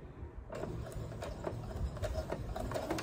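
A sewing machine back stitching on fabric, a close, rapid run of mechanical stitching clicks and whirring that starts abruptly after a brief quiet moment.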